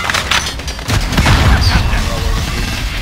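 Rapid bursts from the default 5.56 FAMAS rifle in Call of Duty: Modern Warfare boom close and loud, overlapping other battlefield gunfire and impacts, with voices talking over the match.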